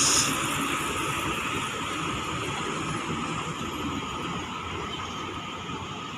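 A JRG bus runs along a road in Sumatra on the Medan to Pekanbaru route, its engine and tire roar a steady, fairly loud rumble throughout with no talk.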